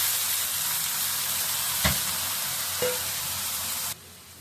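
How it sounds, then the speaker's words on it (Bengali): Onions and a hilsa fish head sizzle loudly in a hot pan, a steady close frying hiss broken by a couple of soft clatters before the sound cuts away near the end. "পেঁয়াজগুলো একটু ভাজা হওয়ার পরে ইলিশ মাছের মাথাটা দিয়ে দিচ্ছি"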